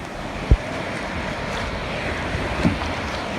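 Sea waves wash steadily on a choppy sea during a canoe outing, heard as continuous broadband surf mixed with wind noise on the microphone and two brief soft knocks.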